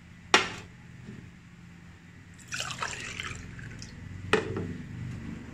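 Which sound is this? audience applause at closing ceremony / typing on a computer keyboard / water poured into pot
water poured into pot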